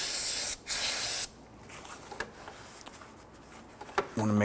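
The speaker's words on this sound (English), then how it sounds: "going to clean up the surface around here with some spray solvent" Solvent cleaner sprayed onto the engine surface near the oil filter mount of a 2005-2021 Nissan Frontier, two close, loud hissing bursts, then a quieter, fainter stretch with small ticks and handling noises.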